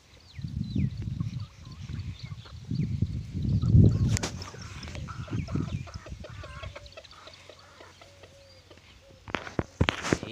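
Roosters and chickens cluck and call again and again at close range, a busy run of short fowl sounds broken by a couple of sharp knocks. The birds grow quieter toward the end.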